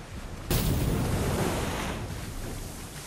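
Ocean surf crashing onto a deserted island shore, where a castaway sets out on a rubber raft with a wooden paddle: a sudden, loud, wide rush of breaking water that starts abruptly, then settles into a sustained roar mixed with wind.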